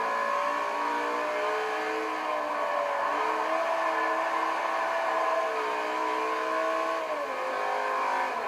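A Lamborghini Gallardo Balboni accelerates hard, its engine note climbing through rising revs with brief dips at gear changes, loud and close with no talking over it.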